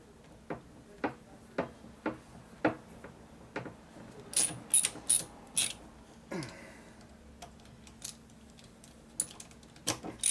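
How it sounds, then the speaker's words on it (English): Screws fitted into the side cover of a 1983 Harley FXRT shovelhead motorcycle during an inner primary bearing repair, with a series of sharp close metallic clicks and taps in an uneven rhythm, with a few brighter clinks in between. "Probably won't hurt to put all the screws in the side cover."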